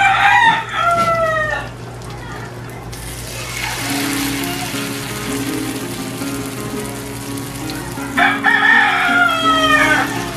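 A rooster crows loudly nearby on a mountain farm, then again several seconds later, with a quieter stretch of background noise between the two calls.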